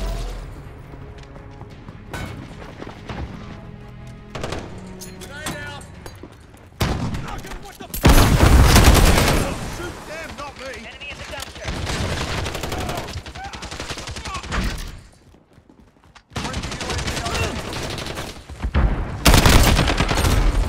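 Assault rifle fire in a Call of Duty Team Deathmatch match, heard as loud bursts and rattling volleys with short quieter gaps in between.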